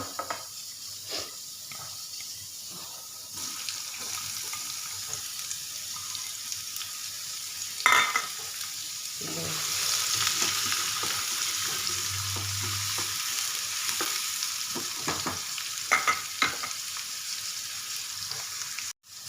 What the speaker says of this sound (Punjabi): ਇਧਰ ਮੈਂ ਰਿਫਾਈਨਡ ਆਇਲ ਗਰਮ ਕਰ ਲਿਆ ਤੇ ਇਹਦੇ ਵਿੱਚ ਸਭ ਤੋਂ ਪਹਿਲਾਂ ਪਾ ਦਾਂਗੀ ਮੈਂ ਜੀਰਾ ਤੇ ਨਾਲ ਇਹਦੇ ਵਿੱਚ ਪਾਵਾਂਗੀ ਪਿਆਜ਼